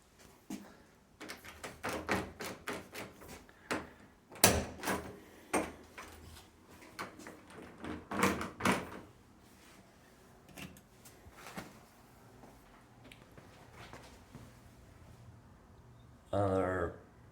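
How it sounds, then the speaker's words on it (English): A hotel room door and its lock being handled: a run of sharp clicks, knocks and latch rattles, close and fairly loud, with a further burst near the end. "This is the door lock."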